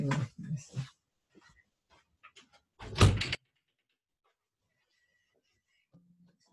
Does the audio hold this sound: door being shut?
yes